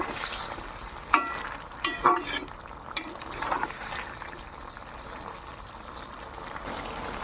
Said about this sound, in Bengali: এবার এর সাথে একটু ভালো করে নাড়িয়ে নেব